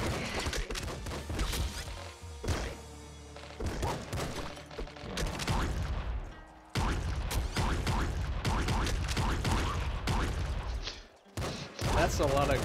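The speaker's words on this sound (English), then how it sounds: "that's a lot of exploding" Rapid chains of explosions and gunfire in the top-down shooter Nuclear Throne, loud and dense bursts piling on one another almost without a break, with a short lull partway through.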